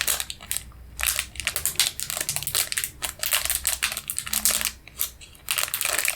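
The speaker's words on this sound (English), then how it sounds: "that looks good for the crinkling" Close, loud crinkling and crushing of material for ASMR, a dense run of sharp crackly bursts in irregular rhythm with brief pauses, no talk.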